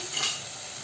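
Masala sizzling as it is sautéed in oil until the oil separates, a soft steady frying hiss with a quick stir, close and brief, no talking.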